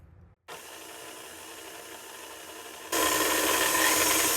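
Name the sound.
stand mixer with paddle attachment mixing pretzel dough on medium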